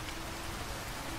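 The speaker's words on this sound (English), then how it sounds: "And then the rain hit me." Steady rain pouring down in Minecraft, a dense, even hiss of falling drops that fills the whole moment without pause, close and constant with no voices over it.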